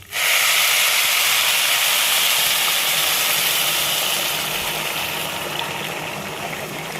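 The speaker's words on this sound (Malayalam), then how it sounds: "നമ്മൾ നേരത്തെ കെറ്റൽ വെള്ളം വെച്ചിരുന്നല്ല അത് നല്ല തിളച്ച് കഴിഞ്ഞ് കൊണ്ട് വെച്ച് കൊടുക്കും" Boiling water from a kettle poured into a pot of ghee rice, making a sudden loud rushing hiss that starts at once, holds steady and slowly fades, close and alone.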